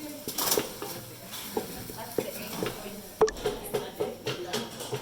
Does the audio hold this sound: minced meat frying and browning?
yes